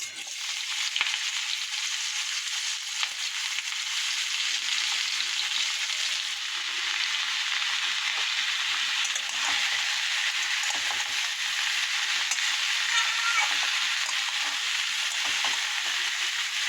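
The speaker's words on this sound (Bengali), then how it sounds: "কড়াতে জিরে শুকনো লঙ্কা ফোড়ন দিয়েছি এবার লাউগুলোকে" Bottle gourd frying in a pan with cumin and dried chilli: a continuous, close hiss of oil sizzling at a steady level, with light crackles and occasional stirring. No one talks.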